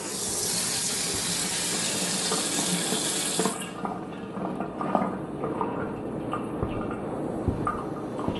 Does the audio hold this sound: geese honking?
no